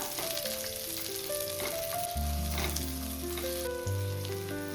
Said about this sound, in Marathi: आतां तितून एक कांदो घालता, उबो चिरलेलो, मोठो चिरला. हे बरें तळसून घेता.